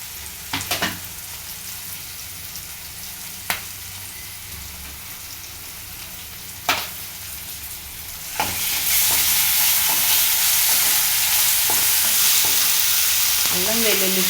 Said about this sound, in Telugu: అల్లం వెల్లుల్లి పేస్ట్ వేసాక కొంచెం బాగానే ఫ్రై చేయాలి